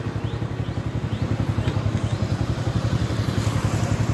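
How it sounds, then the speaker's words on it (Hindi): A motorcycle idles nearby with a fast, even thumping engine pulse, loud and steady throughout. "पुष्टू अभी स्कूल के लिए उतर रही है बाइक से।"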